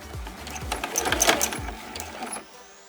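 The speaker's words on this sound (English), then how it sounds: "I'm just going to sew straight down and do the same thing on my other corners" A sewing machine stitches binding straight down the edge of a Christmas hot pad, a close mechanical whir with rhythmic needle thumps and light clicks that stops just before the end.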